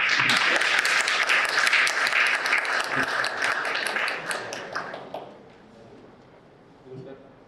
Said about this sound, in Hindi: बस तालियां जोर से हो जाएगा।